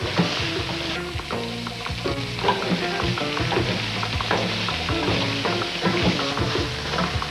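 Leftover vegetables sizzle loudly as they are heated through in a pan, steady crackling frying with frequent stirring clatter up close throughout, no talking.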